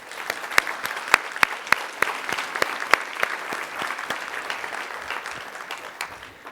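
Steady applause from a meeting audience welcoming guests at a physiotherapy forum's annual general meeting and awards, with sharp individual claps standing out early before settling into an even wash that gently tapers.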